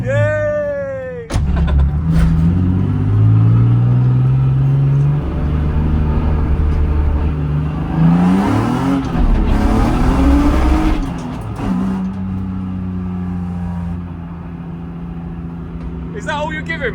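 Supercar accelerating hard in second gear, engine note climbing steadily in a loud close pull from the cabin, briefly dipping and rising again before easing off, with people talking and shouting over it.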